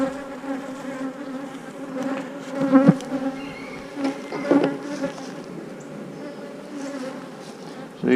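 Bees buzz around open hive boxes in a dense, steady hum at close range, with a few louder passes as individual insects fly near.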